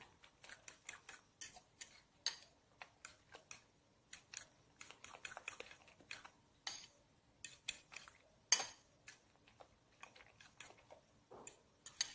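A fork or whisk beating eggs clicks rapidly against a bowl in uneven bursts of quick, light taps, close and fairly quiet, with brief pauses between flurries.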